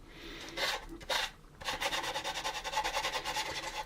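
A plastic part from an AMT U.S.S. Enterprise model kit is sanded by hand, first with a few slower strokes and then a fast, even run of short rasping strokes. The sanding is close and there is no talking.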